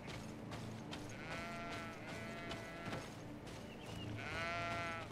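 Sheep bleat in the video game GreedFall, several wavering, drawn-out calls from a flock layered over one another above a low background music bed, with no talking.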